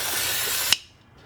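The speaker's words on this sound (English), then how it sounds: "I do have some of this brake cleaner without the, and I just spray it a little bit usually" Brake cleaner is sprayed onto the brake rotor of a Kia Soul in a single loud, close hiss that ends with a click and then drops to near quiet.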